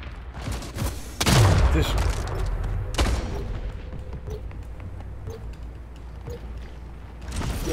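Gunfire in a multiplayer shooter video game, with sharp bursts and a heavy booming shot mixed with scattered impacts, while a player talks excitedly over the action.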